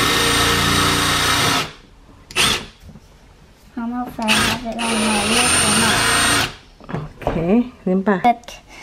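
A power drill driving screws, heard as loud whirring bursts close by, broken up by gaps, with people talking and handling noises in between.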